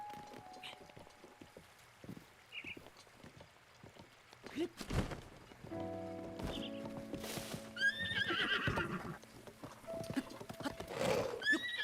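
A horse in the video game The Legend of Zelda: Breath of the Wild whinnies and neighs several times over clip-clopping hooves, set against a busy layer of game effects and ambience, with no speech.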